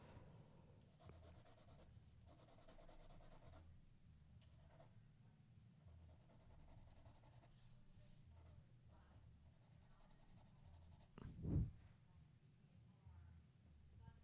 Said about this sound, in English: Use your grubby finger to smudge